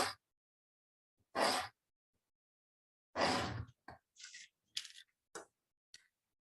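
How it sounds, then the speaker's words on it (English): Scissors snip through paper while cutting out a handmade Holi card, a few short crisp cuts separated by pauses, close and fairly quiet with no talking. "So we will cut it out from all four sides."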